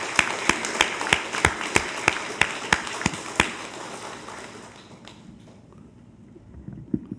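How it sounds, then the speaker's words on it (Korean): A church congregation in a Korean Sunday service claps together in a slow, unified rhythm, about a dozen loud, evenly spaced claps that then stop, leaving quiet room noise. "우리 조 집사님, 이 집사님, 김 집사님 가정 힘내시도록 박수하겠습니다."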